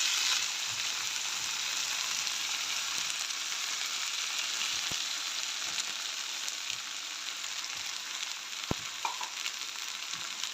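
Eggs sizzle steadily in a hot pan for keema paratha, a constant broadband frying hiss with a few faint clicks of a utensil, no talking.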